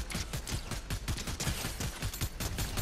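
Rapid automatic gunfire from the video game Fortnite rattles in quick bursts of evenly spaced shots, moderately quiet and continuous with no talk over it.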